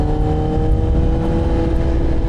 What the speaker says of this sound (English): I'm out riding my 2024 Kawasaki ZX-10R 40th anniversary edition.